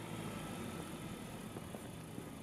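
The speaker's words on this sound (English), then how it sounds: "releasing the clutch pedal slowly and adding power as the clutch slips its way to linking with the engine" A manual-transmission car's engine hums at around 1500 to 2000 RPM as the clutch pedal is slowly released and slips into engagement: a faint, steady, low drone with no distinct changes.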